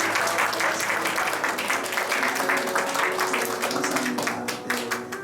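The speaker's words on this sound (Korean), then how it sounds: "박수 좀 환영해주세요." A Korean church congregation claps in welcome for visiting guests and a missionary during a worship service, a full, steady wave of applause that holds for several seconds and then thins slightly toward the end.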